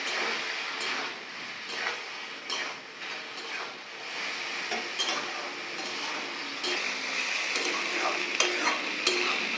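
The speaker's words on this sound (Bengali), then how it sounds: "কাজু দিয়েছি, কিশমিশ আর আমসত্ত্ব। এটা একটু সামান্য নাড়াচাড়া করে নেব।" Cashews, raisins and mango leather stirred through tomato chutney in a pan, a steady low sizzle with repeated spoon scrapes and clinks against the metal, fairly quiet and close, no talking.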